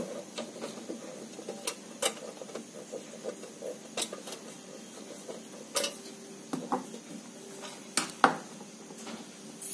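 Sharp, scattered clicks and ticks of screws being driven into the cover of a Qtech visible spectrophotometer, faint and irregular over a quiet background.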